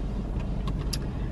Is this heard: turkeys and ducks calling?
no